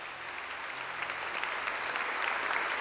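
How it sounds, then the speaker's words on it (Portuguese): A church congregation applauds during a worship service, a dense and steady wash of many hands clapping at once that swells slightly toward the end, with no talk over it. "Pode aplaudir o Senhor."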